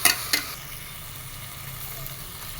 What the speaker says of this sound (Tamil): கூடவே புதினா மல்லியும் சேர்த்து நல்லா ஒரு தடவை மிக்ஸ் பண்ணி விட்டுக்கோங்க.